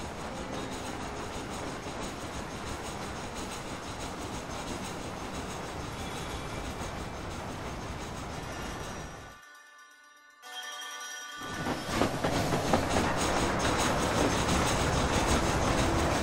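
A train rolls past in the western video game Red Dead Redemption, a dense continuous rumble with clattering wheels that drops away briefly to near silence, then returns louder and steadier.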